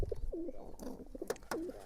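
Soft coos from pigeons sitting on eggs repeat in short, throaty phrases, close by and fairly quiet, with no talking.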